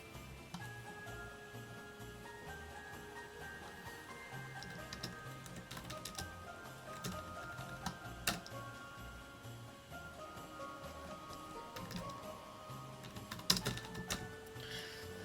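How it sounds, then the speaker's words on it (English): Faint, rapid clicking of computer keyboard keys, quiet and irregular, sits under a soft background hum with a few sharper taps toward the end. "Sorry, I was typing at the end there."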